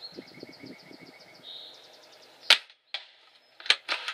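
An upgraded Well L96 airsoft sniper rifle fires outdoors with a sharp crack, followed by a few fainter pops and a snap at the target, while birds chirp faintly in the background.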